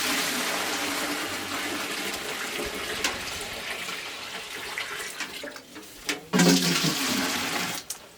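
Water is drawn at a village well in the Ural countryside: steady pouring and splashing, ending in sharper sloshes and knocks of a vessel near the close.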